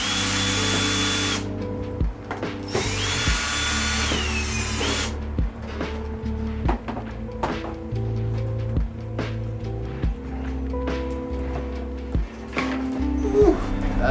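A power drill or driver whirring in repeated short bursts as the front bumper screws come out of a Onewheel electric skateboard, close and loud, with clicks and small rattles between bursts.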